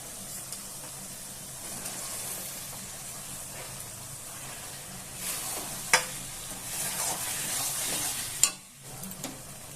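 Cabbage dhoka pieces sizzle and fry in spiced oil with turmeric, a steady close hiss broken by a few sharp stirring clatters and scrapes toward the end.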